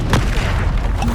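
A magic blast spell bursting in a fantasy action video game, a short booming explosion with a sharp broadband crack followed by a lighter pop near the end, dense low rumble underneath.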